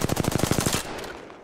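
Rapid automatic gunfire in the Rainbow Six Siege video game, a tight burst of about ten shots in quick rhythm, loud and close, then cutting off into a fading tail.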